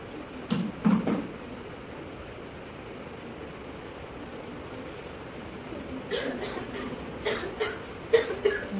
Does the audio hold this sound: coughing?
yes